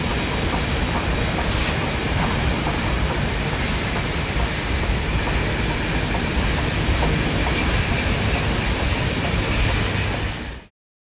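Union Pacific Big Boy 4014 steam locomotive hauling its train past on the line toward Salt Lake City and Evanston, a loud continuous rumble and clatter of wheels and cars for about ten seconds before cutting off abruptly.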